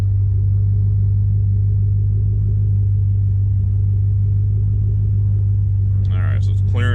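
A 2005 Ford Mustang GT with its engine light on, idling steadily with a deep, constant low rumble that stays even throughout, and a brief burst of other sound near the end.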